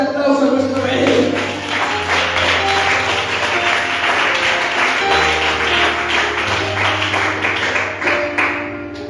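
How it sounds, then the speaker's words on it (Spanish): A church congregation gives a strong round of applause, a steady dense clapping under a loud, sustained held tone and music that continue throughout. "¿Cuántos dan un fuerte aplauso a nuestro Rey?"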